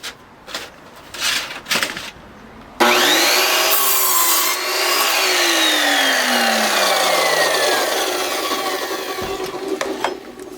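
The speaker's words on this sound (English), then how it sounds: "Now we're going to cut off this stop block." An Evolution Rage 4 chop saw, its blade edge freshly tuned, cuts through a wooden stop block. A few short handling knocks come first, then a loud, close whining bite into the wood that holds steadily and winds down near the end.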